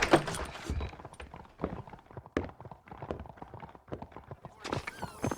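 Horse hooves clip-clop on the ground in the Red Dead Redemption video game, irregular moderate thuds at close range, quiet overall with no speech.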